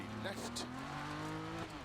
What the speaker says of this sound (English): right now we're driving a Datsun 240Z, so it's a rear-wheel drive car